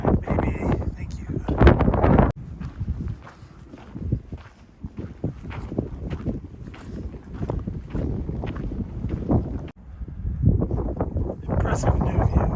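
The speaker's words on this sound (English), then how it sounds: "The wind's back, baby." Wind buffeting a microphone on a hiking trail, a steady rumbling roar throughout with a few abrupt dropouts, and footsteps and some talking mixed in.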